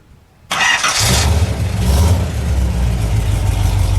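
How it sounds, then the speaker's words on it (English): A 1970 AMC Javelin Trans Am's 390 V8 cranks and catches after a brief quiet moment, then settles into a loud, deep, rumbling idle close by. "let's start it up"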